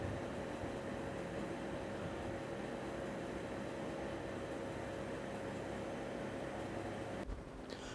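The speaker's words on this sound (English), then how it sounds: "this machine will automatically sharpen up the cutting edge of" An automatic blade-sharpening machine hones the cutting edge of a microtome trimming blade in a tissue-processing lab, giving a steady, loud mechanical whir with a constant tone that cuts off abruptly near the end.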